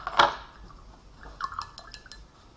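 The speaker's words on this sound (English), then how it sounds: "Okay, then you're gonna rinse your brush out." A paintbrush being rinsed in a water cup while painting a color wheel, with a few light drips and small liquid clinks, close and quiet.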